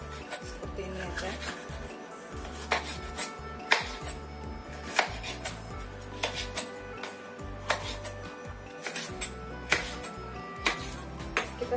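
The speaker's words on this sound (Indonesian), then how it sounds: "Kemudian kita iris besar-besar seperti ini aja." Asparagus is sliced into large pieces on a cutting board, a steady series of firm knife chops landing about once per second, close and crisp over a faint background hum.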